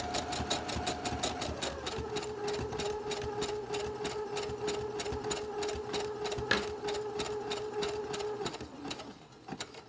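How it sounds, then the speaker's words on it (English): A sewing machine running steadily up close, its needle hammering in a fast even rhythm while back stitching elastic and a pipe cleaner onto a fabric face mask, pausing briefly near the end. "Then I'm gonna back stitch to get that pipe cleaner."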